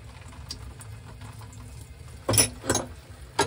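Water from a swamp cooler water line splashes and gurgles in a few short, louder bursts late on, over a faint background of trickling.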